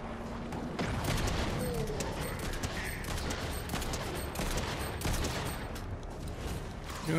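Gunfire in Fortnite during the Doom event: a dense, rapid run of shots crackles without a break for the whole stretch, loud and close, with little talk over it.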